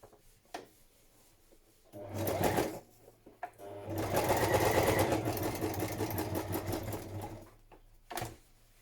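Close by, a sewing machine stitches a padded patchwork journal cover in two runs, a short burst followed by a longer steady whir, with soft fabric rustling and light clicks in the quieter gaps.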